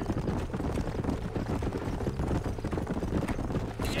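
Horse hooves clip-clopping in the video game Red Dead Redemption, a steady rhythmic trot of hoofbeats continuing throughout, fairly close, with faint voices in the background.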